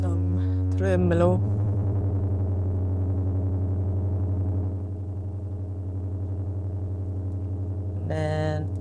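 Tremolo on a piano sample in beat production, with sustained low tones and a pulsing, wavering texture holding steady over most of the stretch. Short bursts of pitched sound come near the start and end.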